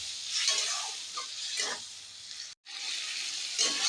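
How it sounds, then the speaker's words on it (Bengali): Spice paste and prawns fry and get stirred in a pan for a Bengali dish, a steady close sizzle with soft scraping strokes, one brief dropout, no talk. "মশলাটা চিংড়ি মাছটার সাথে ভেজে নিয়েছি বন্ধুরা।"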